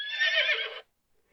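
A single short horse whinny from the video game Exile III lasts under a second and then drops into silence.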